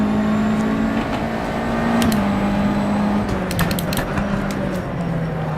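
A USF2000 open-wheel race car engine in the rFactor 2 sim at Suzuka West drones steadily, its pitch rising and dipping through gear changes, with scattered sharp clicks and no speech.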